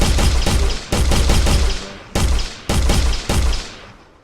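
Tennis balls fired from a launcher in an Unreal Engine 4 test level, giving five loud, sharp gunshot-like bursts at irregular intervals, each with a short decaying tail, and no talking.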